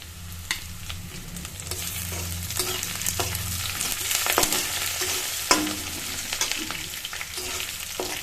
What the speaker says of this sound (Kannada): ಬೆಳ್ಳುಳ್ಳಿ ಜಜ್ಜಿಟ್ಕೊಂಡಿರೋದು ಹಾಕ್ತಾ ಇದ್ದೀನಿ ಚೆನ್ನಾಗಿ ಫ್ರೈ ಆಗಬೇಕು ಇದು ಬೆಳ್ಳುಳ್ಳಿ ಮತ್ತು ಕರ್ಬೇವಿನ ಸೊಪ್ಪು ಹಾಕ್ತಾ ಇದ್ದೀನಿ